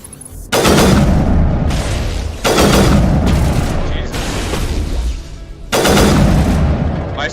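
Sniper rifle in Mass Effect fires three heavy, booming shots a couple of seconds apart, each sharp crack followed by a rolling echo that decays before the next.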